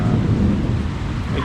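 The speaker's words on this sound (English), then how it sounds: "Every evening, it'll rain like this for maybe an hour or so." Evening thunderstorm in Angeles City, Philippines: a deep rolling rumble of thunder over heavy steady rain, loud and close, no voices.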